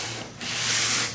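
Sandpaper rubs across a Mosin Nagant rifle stock during bedding work, a close, continuous scratchy hiss that swells slightly over a single stroke.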